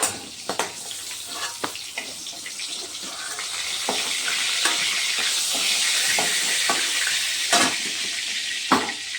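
Food sizzles in a pan while frying, a continuous crackling hiss broken by sharp clinks and stirring knocks from a utensil, close and moderately loud, no talking.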